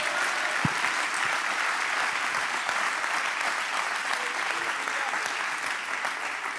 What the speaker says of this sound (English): Somebody clap your hands.